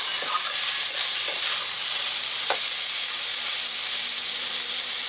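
Ginger paste mixed with ground spices fries in a pan for vegetable chops, giving a loud, steady close sizzle with faint scraping stirs and no talking.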